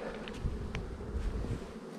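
Honeybees buzz steadily around a newly placed hive, a continuous close hum with a few louder passes from individual bees flying in and out, no voices.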